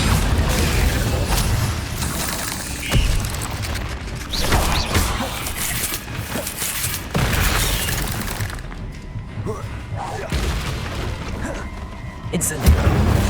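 Fire spell Incendio cast repeatedly in the Hogwarts Legacy video game, loud whooshing bursts and booming crashes layered over dense, continuous battle noise, with sharp impacts recurring every second or two.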